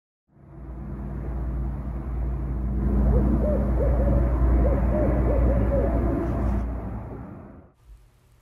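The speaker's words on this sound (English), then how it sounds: "You can identify a barred owl's call by the pattern of hoots it makes." A barred owl gives a rhythmic series of deep hoots lasting several seconds, fairly loud and heard alone in quiet night surroundings.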